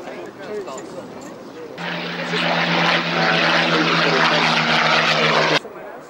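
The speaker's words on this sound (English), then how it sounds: "EP120, one of the very rare breed of Mark V Spitfires." A rare Mark V Spitfire, EP120, passes overhead at the 1999 Duxford autumn air show. Its propeller engine roar swells loud and steady for several seconds, then cuts off abruptly, with faint speech before and after.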